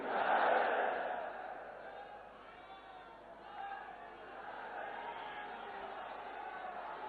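Large political rally crowd chanting and cheering in unison at a prime minister's address in Uttar Pradesh, a dense roar that swells loudest at the start then holds steady and broad throughout, with voices mingling into the sustained noise.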